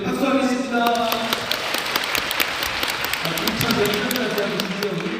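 A church congregation at a Bible reading session applauds with loud, steady clapping, while voices sound over it.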